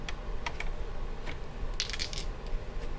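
Dice clatter in a dice tray during a tabletop roleplaying game, with several sharp rattling clicks and a burst of quick tumbling near the end, close over a low room hum.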